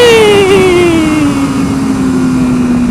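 A motorcycle engine revs during a wheelie, one loud close tone sliding steadily downward in pitch over about three seconds with no talk.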